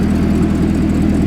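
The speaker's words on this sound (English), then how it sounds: "let's hear the exhaust. All right, so we got 2 AWE exhausts about to happen here" Chevrolet Corvette ZR1 fitted with an AWE exhaust running near the microphone, a steady loud low rumble and throb that sounds like it has just fired up and settled, with no voices.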